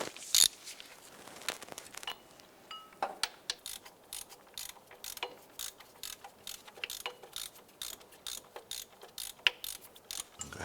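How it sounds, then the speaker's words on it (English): A ratchet with a 15mm deep socket loosening a bolt near the alternator of a 2011–2019 Ford Fiesta, rapid clicking in quick bursts with brief pauses, close and distinct with no talking. "we're going to use a 15mm deep socket with our ratchet"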